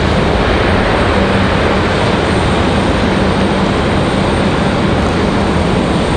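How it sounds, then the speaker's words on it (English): An MD-11 taxiing at Raleigh-Durham airport, a loud, unbroken broadband engine roar with a low steady hum, close and constant, no voices. "The MD-11 headed up the hill."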